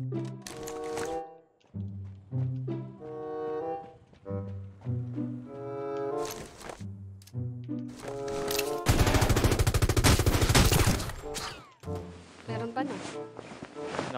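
Burst-fire gunshots from the Rules of Survival battle royale game ring out as a dense, loud volley lasting a couple of seconds. Tonal game music and sounds come before it, and brief shots follow.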